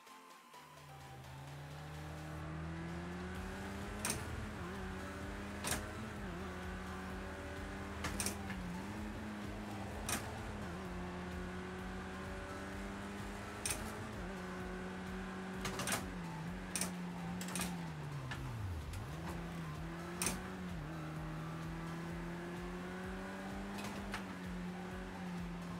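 Race car with a manual H-pattern gearbox in Project Cars 2 on the Nordschleife, engine droning steadily and rising and falling in pitch through gear changes, with sharp clicks recurring over the sustained hum.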